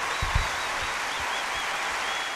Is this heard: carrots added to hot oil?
no